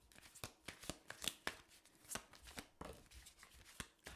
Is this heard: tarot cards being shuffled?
yes